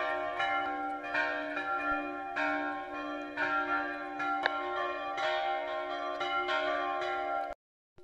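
Church bells ring out in a steady, overlapping peal with rich sustained tones, each strike blooming and decaying continuously for about seven seconds before cutting off abruptly.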